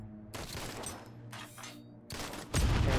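Heart of the Machine gameplay gunfire: bursts of rapid shots, loud and close, in roughly three volleys with brief gaps between, ending in a heavier, boomier burst.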